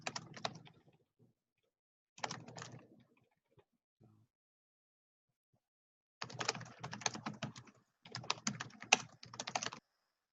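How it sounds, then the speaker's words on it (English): Someone types on a computer keyboard nearby in quick bursts of soft, rapid clicks separated by short silences, with a longer run of keystrokes toward the end. "Sorry, I just muted you, Tyler, because we could hear your keyboard."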